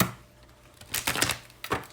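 Tarot cards being shuffled by hand, two short papery riffling bursts separated by a brief pause in a quiet room.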